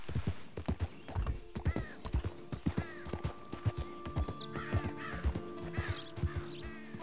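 A horse's hooves clip-clop at a steady trotting rhythm in the Red Dead video game, with a whinny and crow-like caws over the top of the footfalls.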